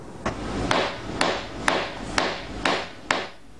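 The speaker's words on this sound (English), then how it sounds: "For Cai Yichen, a simple hammering on the leather requires extra concentration" Hammer strikes on leather during leather carving, seven sharp, evenly spaced taps about every half second, close and fairly loud over a low background hum.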